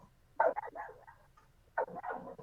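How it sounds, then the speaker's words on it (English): A small puppy gives two short bursts of high, yappy barking, faint and close, with a quiet pause between them. "this poor little puppy"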